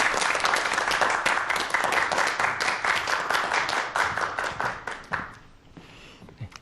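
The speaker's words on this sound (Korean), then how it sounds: "여러분 박수로 맞이해 주시기 바랍니다" Studio audience applauding to welcome a lecturer at a science talk show, with dense, steady clapping that tapers off and fades out near the end.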